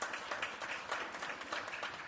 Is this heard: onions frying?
no